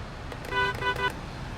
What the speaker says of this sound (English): I feel like I have to honk at them.